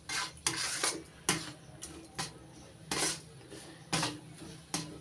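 Spoon stirring semolina with milk in a pan on low heat for ripe mango halwa, a series of soft scraping strokes and light clinks against the metal, fairly quiet and close, with no talk.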